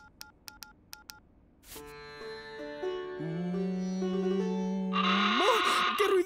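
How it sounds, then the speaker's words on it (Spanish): In a cartoon, a rapid series of phone keypad tones, then a loud, rising electronic message alert blares and swells into a harsh, grating squeal. "Poner un ruido horrible como alerta de los mensajes"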